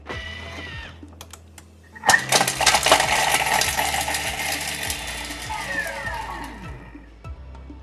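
A food processor chops on speed 7 for about three seconds, a loud, dense whirring burst of blades cutting through spicy ingredients for a beetroot stir fry, rising suddenly and winding down, with a short quieter stretch before it.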